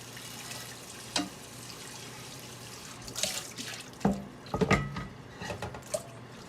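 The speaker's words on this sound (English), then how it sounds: "I'll give it a quick rinse. It has to be rinsed a little bit." A hot cast iron skillet is rinsed under running tap water with no soap. A steady faucet hiss runs throughout, broken by a few close knocks and splashes as the pan is moved.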